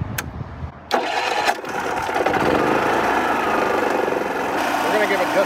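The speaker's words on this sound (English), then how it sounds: "So let's fire up this engine" A generator engine being started during a repair, cranking with a few sharp bursts before catching, then running at a steady close, loud drone.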